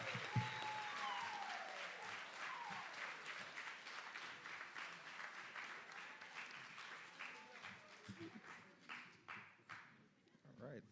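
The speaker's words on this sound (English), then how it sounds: "Let's give another big round of applause for all of the 21-22 City Year Philadelphia" Applause at a City Year Philadelphia corps graduation ceremony, a sustained, distant crowd clapping that breaks into a few sharper individual claps before fading out.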